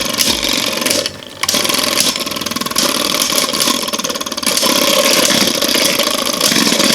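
Two rubber-tipped Beyblade Burst tops, Jet Wyvern and Fafnir, whirring steadily in a stadium after a soft launch, a loud continuous buzzing hum with a brief dip in the first seconds before resuming.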